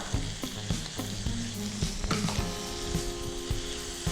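Mushrooms sizzle and fry in a pan for a mushroom fajita pasta, with a steady crackle broken by scraping and clicking stirs from a utensil.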